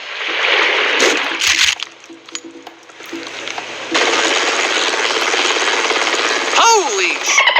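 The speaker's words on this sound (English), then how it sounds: "Is that some kind of cool new stealth chopper?" A helicopter drones loudly and steadily through most of the stretch, briefly dipping before returning at full strength, with other noises and a sweeping tone near the end over the top.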